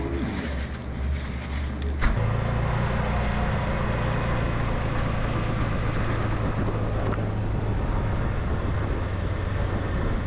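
A golf cart engine on an island street, a steady low motor hum with road rumble running continuously after a brief shift early on, moderately loud and without talk.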